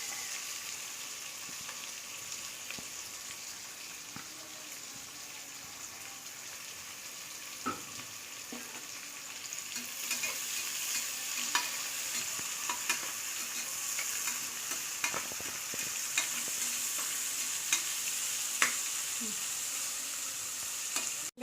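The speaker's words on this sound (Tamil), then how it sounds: "வெங்காயம் நல்லா டிரான்ஸ்பரண்ட்டாக வதங்கிட்டு இருக்குது." Chopped onion sautéing in a pan for Tamil tomato rice, with a steady close sizzle and intermittent scraping stir strokes that grow louder and busier partway through, no voices.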